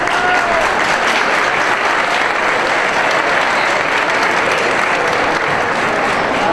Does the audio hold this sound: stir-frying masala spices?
no